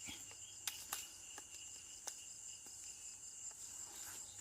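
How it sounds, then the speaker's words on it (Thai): Night insects chirp steadily around flowering durian trees in an orchard, a dense continuous high buzz with faint clicks and rustles, fairly distant and unbroken by talk. "แมลงกลางคืนด้วยครับ"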